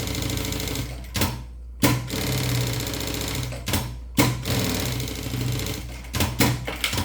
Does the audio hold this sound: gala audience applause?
no